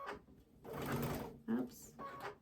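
A sewing machine stitches quilt fabric close by, short bursts of rapid needle chatter with brief pauses between them.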